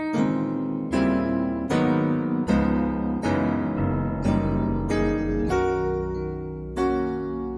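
Piano chords in a 7-3-6-2-5-1 progression ring out one after another, about eight struck in steady succession, each sustaining and fading before the next, with no talking.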